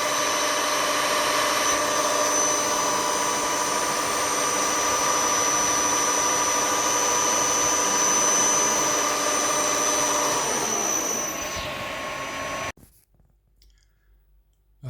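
A drill bores holes in a metal tool fixture with a steady, loud whirring drone and a high whine that holds for about twelve seconds, then cuts off abruptly, leaving near silence.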